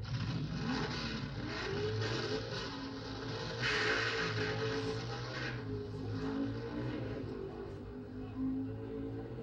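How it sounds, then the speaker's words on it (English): Pro Stock drag cars, including a 9-second Camaro, race in a 1970 NHRA World Finals semifinal, a continuous roaring engine drone that swells midway and holds steady, heard at a distance through old, muffled recording. "In one of the Pro Stock semifinals, Ronnie Sox faces Jim Hader's 9-second Camaro."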